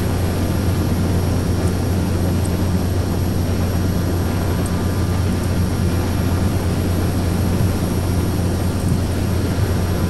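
The Quest Kodiak's engine drones as the plane comes in to land in X-Plane 11, a loud, steady, unbroken propeller hum with a low rumble throughout.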